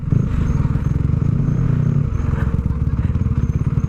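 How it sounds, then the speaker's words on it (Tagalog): A motorcycle engine runs close by on a road with a loud, steady buzzing drone, plus some rattling clatter and rough road noise throughout. "Huwag kang sasalubong sa motor."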